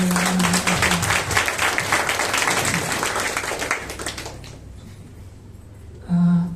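A Nazarene church congregation at a Sunday Kannada worship service applauds in a loud, dense burst that fades out after about four seconds, followed by a short spoken word.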